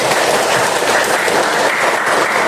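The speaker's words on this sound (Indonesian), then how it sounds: "Tepuk tangan untuk kita semua." A group claps at a school academic supervision coaching session, a loud continuous wash of hands that stays even throughout with no voices on top.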